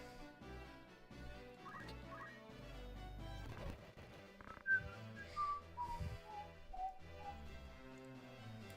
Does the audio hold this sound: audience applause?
no